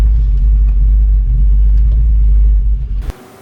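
A 1968 Chevelle with an LS6 454 engine roars loud and close under hard acceleration, a steady heavy rumble with the tires spinning, before the sound cuts off abruptly near the end.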